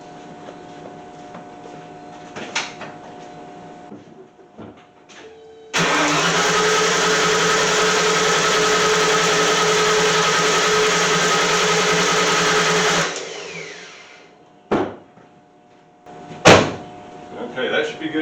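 A freshly rebuilt 302 engine cranks over steadily for about seven seconds to build oil pressure, a loud sustained whirring drone close by, bracketed by a few sharp knocks and clunks before and after.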